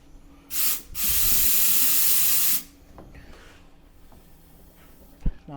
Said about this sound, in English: Now I can blow air through it just fine.